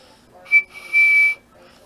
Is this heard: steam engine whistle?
yes